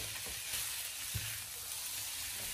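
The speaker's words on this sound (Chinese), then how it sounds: "我们将黄瓜翻炒几下" Sliced cucumber stir-frying in a hot pan, a steady faint sizzle with soft scraping and tossing thumps from the spatula, no talking.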